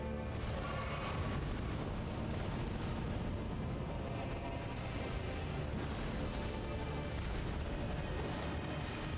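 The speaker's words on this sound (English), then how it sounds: "Wow, that's just a fucking explosion." Explosive blasts in Elden Ring roar through dense, continuous rumbling noise, with several sharp bursts striking partway through amid the loud, sustained game din.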